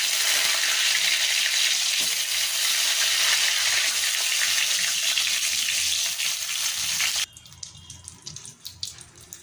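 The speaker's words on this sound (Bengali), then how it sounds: "এবার বেগুনগুলোকে লালচে করে ভেজে নেব।" Brinjal pieces fry in hot mustard oil in a wok with a loud, dense, continuous hiss for about seven seconds, then it abruptly drops to a quieter, crackling sizzle.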